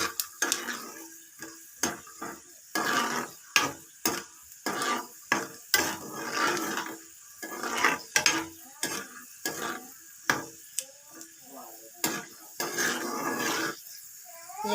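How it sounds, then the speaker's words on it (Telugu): Peanuts being fried in a pan in a village-style kitchen, with a run of close, rhythmic stirring scrapes and rattles over a light sizzle, and no talk. "ఇవి కాస్త బాగా ఫ్రై చేసుకొని పక్కన పెట్టుకుందాం."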